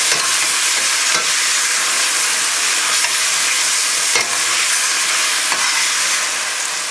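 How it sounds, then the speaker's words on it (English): Beef, peppers, onions and pineapple sizzle loudly in a pan, a steady bright frying hiss with a few sharp scraping stirs, no voices. "Give it a stir."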